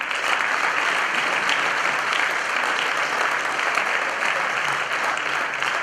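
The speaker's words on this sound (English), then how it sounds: "You can give him a round of applause" Sustained clapping from a banquet crowd at a spring sports awards dinner, a loud, continuous wall of applause from many people that holds steady from start to finish without talk.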